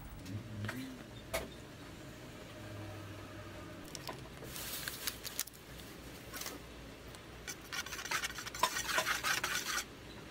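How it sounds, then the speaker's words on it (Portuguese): A spoon scrapes and taps around a bowl, stirring dry ingredients for homemade Doritos-style chips, in intermittent close bursts of light clinking and scraping. "Vamos colocar em um recipiente todos os ingredientes secos e misturar."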